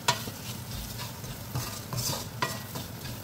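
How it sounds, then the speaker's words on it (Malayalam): Kerala-style beef fry with garam masala stirred in a pan over low flame, with a spoon scraping and clinking against the metal at irregular intervals over a soft, continuous sizzle. "ഇനി ഇത് നന്നായിട്ടൊന്ന് മിക്സ് ചെയ്തെടുക്കാം."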